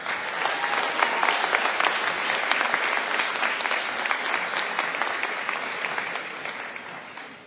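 An audience at a nurses recognition event applauds with sustained, dense clapping from many hands, loud and even before slowly tapering off toward the end.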